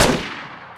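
A single loud gunshot from a firearm in the DayZ video game, a sharp close crack with a quickly fading echo.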